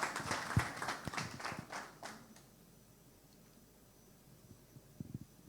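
Brief round of audience clapping at a prostate cancer seminar in Guadeloupe, a few seconds of scattered hand claps that quickly die away into near quiet with a couple of faint taps.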